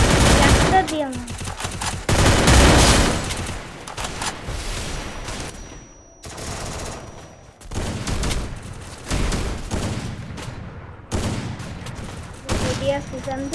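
Gunfire in a shooter video game, loud bursts of rapid shots and single cracks separated by brief pauses, with a voice talking intermittently over the action.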